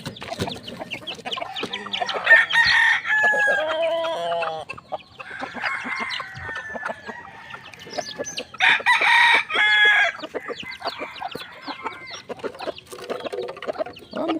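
White Kelso hens and chicks in a small backyard coop cluck, chirp and squawk busily during feeding, a loud, crowded chorus close by with crowing calls rising over the steady chatter.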